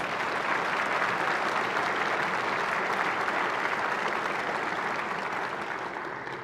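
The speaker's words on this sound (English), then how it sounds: "So you deserve a big round of applause." Legislators and guests in a Hawaii state legislative chamber give a steady, sustained round of clapping during a State of the Judiciary address. The applause fades slightly at the end.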